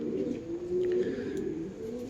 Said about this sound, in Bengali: পায়রা ঘুরছে নামছে না।